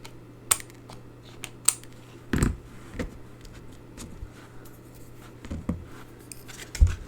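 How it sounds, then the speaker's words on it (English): Scissors trimming card stock while making a handmade meadow card, a few sharp isolated snips and clicks spaced irregularly over a quiet background. "we're going to trim off these bits as well."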